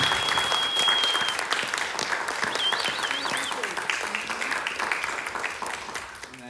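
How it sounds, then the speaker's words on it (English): Enthusiastic audience applause at a bootblack workshop, dense and loud clapping from a crowd that gradually tapers off, with a few voices and a faint whistle mixed in. "Everyone, one big round of applause for"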